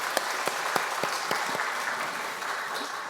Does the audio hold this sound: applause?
yes